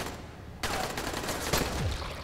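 Gunfire in the zombie game Dying Light, with a sudden loud shot followed by a burst of sharp cracks and a ringing ricochet-like whine, all under a constant noisy backdrop.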